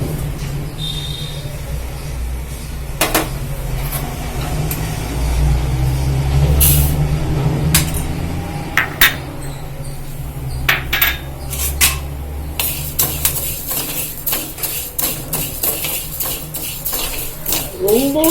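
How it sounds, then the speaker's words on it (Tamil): Lentils and rice are dry-roasted in a pan for kali: a steady low sizzle and stirring rumble, later joined by rapid sharp scraping and clinking of a utensil against the pan, close and fairly loud, with no talk. "இப்போ பருப்பு அரிசியெல்லாம் வறுத்துக்கலாம்ப்பா."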